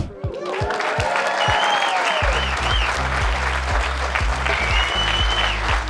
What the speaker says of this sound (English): Applause and welcome to Timothy Ballard